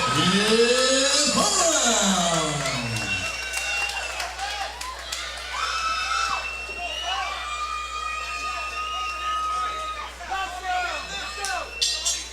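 Crowd at a boxing match clapping and cheering between rounds, a loud hubbub of many voices with whistles and shouts, and a swooping sung or chanted voice early on.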